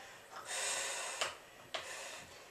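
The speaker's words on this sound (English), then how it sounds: "Strong breath." A strong yoga breath: one long forceful exhale lasting about a second, followed by two brief sharp sniffs or snorts, close to the microphone with no talking.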